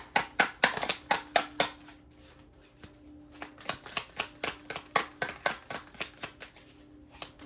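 Rapid riffling of a tarot card deck repeats in several quick bursts, crisp papery flutters close by, with brief pauses between shuffles and no talking.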